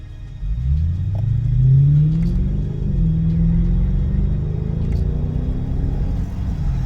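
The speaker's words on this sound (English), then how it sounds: "Sounds like an actual V8 now, finally." A Toyota Crown Majesta UZS186 with a V8 engine and louder exhaust rumbles deeply nearby, swelling as it revs up then settling into a steady throaty idle with no talk.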